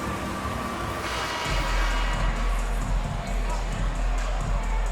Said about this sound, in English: Give a big round of applause for your Pistons dance team.